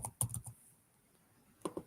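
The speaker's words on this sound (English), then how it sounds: "I'm going to type in Sam" Typing on a computer keyboard while entering a name into a LinkedIn search field, heard as a quick burst of close key clicks, a pause, then two more keystrokes.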